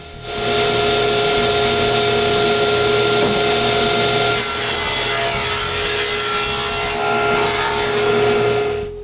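A table saw with a sliding table and fence cuts through a strip of wood, a steady loud whine with gritty sawing texture lasting several seconds and brightening partway through, with no talking.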